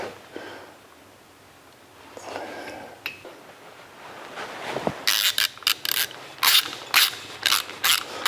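A ratchet wrench tightening bolts while fitting the engine into the frame of a 1982 Jeep CJ: soft handling first, then a loud burst of rapid clicking strokes in repeated bursts, close up.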